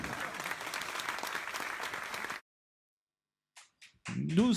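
An audience applauds at the Café Théâtre Le Gueulard in Nilvange for a stand-up comedian: dense, steady clapping that cuts off abruptly, then after a brief silence a voice starts speaking.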